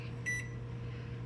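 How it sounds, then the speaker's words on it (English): A single short electronic beep sounds while an oven timer is set in a home kitchen during baking of Irish soda bread, heard over a steady appliance hum. "And we're gonna set the timer"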